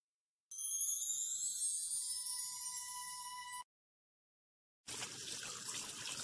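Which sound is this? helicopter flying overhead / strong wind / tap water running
tap water running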